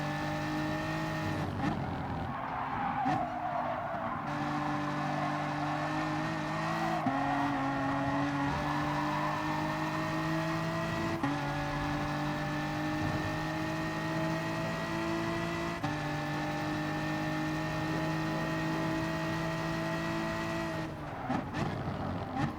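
BMW M4 Gr.4 race cars run in the GT Sport video game at Dragon Trail Gardens, with a steady, loud engine drone that holds its pitch and shifts through gear changes, plus occasional tire noise, and no talking.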